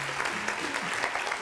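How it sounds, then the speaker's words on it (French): Studio audience at a televised debate show applauding, a dense, even wash of many hands clapping close by, short and steady. "Donc, on applaudit encore, s'il vous plaît"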